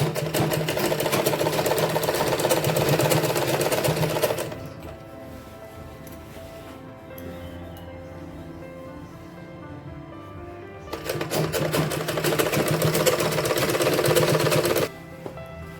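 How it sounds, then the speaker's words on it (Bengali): Sewing machine stitching a salwar, loud rapid whirring runs for several seconds, pauses to a quiet hum with soft handling sounds, then a second burst of fast stitching before stopping. "এবার আমি এভাবে পুরোটা সেলাই করে নেব"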